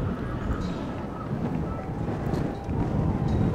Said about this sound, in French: le vent souffle de plus en plus